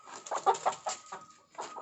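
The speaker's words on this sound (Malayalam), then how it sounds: "കേട്ടാ കോഴിയും വന്നു." Chickens clucking near a home, several short bursts in an irregular rhythm, fairly close and moderately loud with no talk over them.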